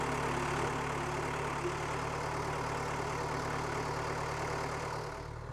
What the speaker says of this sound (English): Put a little load on the engine